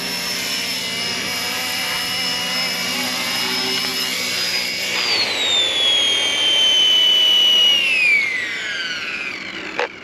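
A small RC ERA UH-1 model helicopter hovers close by with a steady high-pitched motor whine. It drops in pitch as the model comes down to land, then winds down near the end.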